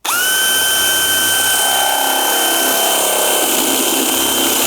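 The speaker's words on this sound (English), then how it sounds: "We're gonna start our drill." A power drill bores a hole through a wooden cabinet, a loud, steady high-pitched whine running continuously from start to finish with a slight shift in tone as the bit cuts through the wood.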